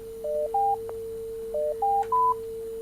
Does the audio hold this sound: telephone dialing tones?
yes